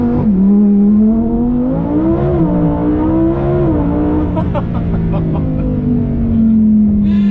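Lamborghini Huracan Tecnica accelerating hard from a stop on launch control, its engine note climbing steadily through the revs, loud and close for the whole run, with a brief shift-like dip partway through.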